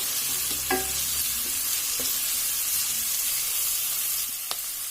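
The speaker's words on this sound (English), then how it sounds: "While the onions are getting brown, we can add a tablespoon of ginger garlic paste and keep frying this" Onions frying in a pan, a dense steady sizzle with occasional soft stirring scrapes and a faint tonal clink, no one speaking.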